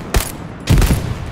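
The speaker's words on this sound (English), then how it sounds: "MG42 on pin." Two short, loud, close bursts of MG42 machine gun fire in a battlefield video game, with a brief gap between them.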